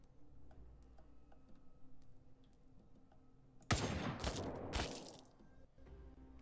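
Gunfire from a gun in the video game The Front: a sudden loud volley of rapid shots, then a second burst about a second later, after a quiet stretch of faint ticking background sound.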